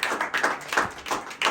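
A small crowd at a pigeon-racing prize-giving claps for trophy winners, a few rhythmic bursts of hand claps close by, with no talk over them.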